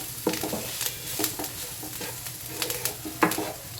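Peanuts roast in a pan for sabudana vada, stirred with repeated scraping strokes and a light sizzle, loud and close in an uneven rhythm, with no voice.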